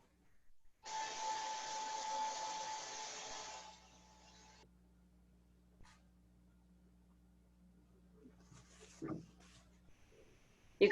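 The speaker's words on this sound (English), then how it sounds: "I hear hair dryer" A hair dryer runs with a steady, fairly quiet airy whoosh and a faint motor whine for several seconds, then switches off, leaving near silence with a low hum and a few small clicks.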